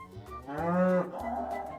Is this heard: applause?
no